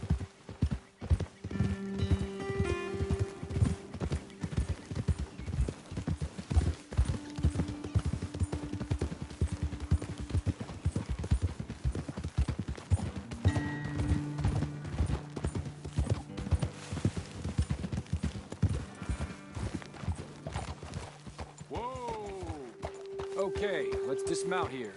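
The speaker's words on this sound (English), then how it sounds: "Okay, let's dismount here. Best leave the horses back a bit." Horses' hooves clip-clop at a walk along a trail in the video game Red Dead Redemption 2, a steady close rhythm with occasional neighs and snorts, while characters talk over the steps.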